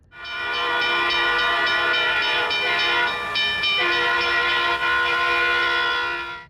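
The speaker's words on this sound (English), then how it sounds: "Investigators later determined that Mary did not register the sound or speed of the train until it was too late." A passenger train horn blares loud and sustained for several seconds, its rich chord holding steady with slight dips, and no other sounds stand out.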